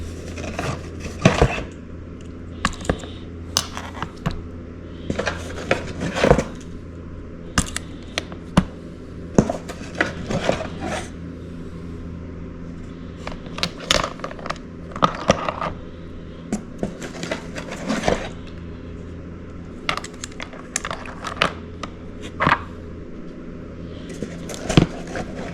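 Hydraulic lifters for an Oldsmobile 455 build, from Bernard Mondello, dropped one by one into a container of oil to soak, giving intermittent metallic clinks and clatter close by, with no talking.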